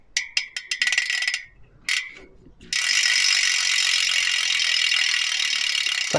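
An Elitewheels Drive 50D bicycle wheel's freehub ratchet clicks in quick bursts as the wheel is spun, then a steady, fast buzzing ratchet whir runs on alone, close up.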